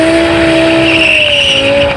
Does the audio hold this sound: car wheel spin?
yes